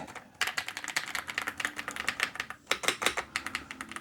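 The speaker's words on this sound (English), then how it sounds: "I do type fast, so this feels really good on my fingertips. Clicky, clicky." Fast, continuous clicky typing on a Redragon K745 PRO wireless gasket RGB gaming keyboard, dense rapid keystrokes close up with a brief pause midway, no talking.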